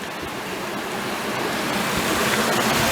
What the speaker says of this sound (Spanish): no sé si se vaya a escuchar bien por el sonido de las cascadas que hay ahí